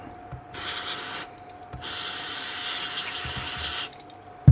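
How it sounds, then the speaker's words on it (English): Two sustained hissing sprays from an aerosol can of contact cleaner into a DeWalt DCN660 nail gun, each lasting over a second, with a short pause between and a faint click at the end. "Can of contact cleaner."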